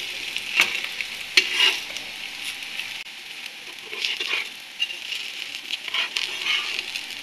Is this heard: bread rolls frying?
yes